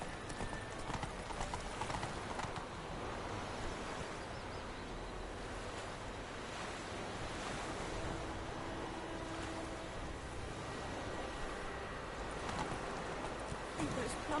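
Horse hooves clip-clopping in the video game The Witcher 3, a steady rhythmic trot running continuously over wind and ambient outdoor noise, with voices talking over it at times.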